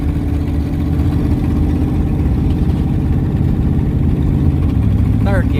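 A 1969 Ford Mustang V8 left rained in for 21 years runs steadily in second gear, a loud continuous low engine drone heard from inside the car, with no voices.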